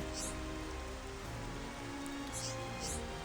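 Rain in Xenoblade Chronicles Definitive Edition falls as a steady, dense hiss of drops on surfaces, continuous and fairly close, with a few faint high chirps over it.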